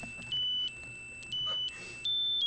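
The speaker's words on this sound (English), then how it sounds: "Silence and then beeps." A series of clear electronic beeps steps between pitches in a short pattern over near silence, crisp and moderately loud.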